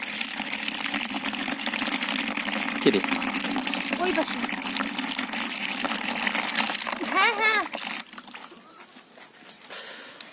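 A tap runs with a steady gush of water during household washing, close and fairly loud, while people talk over it in short exchanges before the flow fades near the end.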